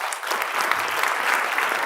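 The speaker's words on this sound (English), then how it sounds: "please give them a round of applause" Audience applause fills a forum hall on National Religious Freedom Day, a steady dense clapping from a crowd that holds at an even level throughout, with no voices rising above it.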